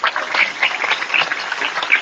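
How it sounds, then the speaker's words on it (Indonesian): Audience applause at an Islamic boarding school religious lecture, a dense steady patter of many hands lasting the whole stretch, with a few sharp squeaky calls poking through the clapping. "Tepuk tangan dulu dong"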